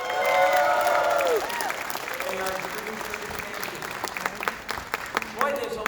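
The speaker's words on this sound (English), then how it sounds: "Let's give it up for our champions, Assemblymember Harvey Epstein and Senator A" Audience applause and cheering at a disability services action day rally fill the space in a steady wash of clapping, while an amplified voice and sung or sustained tones sit over the crowd noise.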